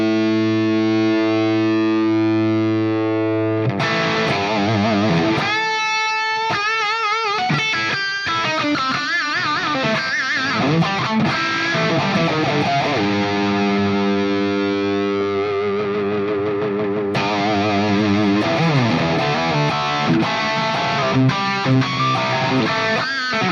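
Heavily distorted electric guitar through a Fractal Audio MF AFD preset modeled on a Marshall AFD100SCE amp, loud and alone: a sustained chord, then fast riffing with tremolo-picked bursts, then held chords ringing out.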